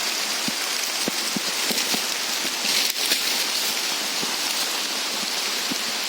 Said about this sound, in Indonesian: Ini dalam keadaan hujan.